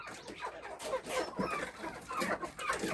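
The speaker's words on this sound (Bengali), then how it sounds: "মুরগির এই জায়গায় কাকা করতেছে, আর জায়গা পায় নাই গা।" A desi chicken clucks repeatedly at close range in a home setting, the calls coming in quick, uneven bursts with no talking.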